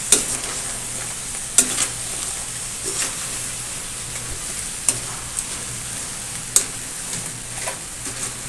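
Crab and eggplant fry with a constant close sizzle in a pan while being stirred, sharp spoon clacks against the pan popping out at irregular intervals, with no talking.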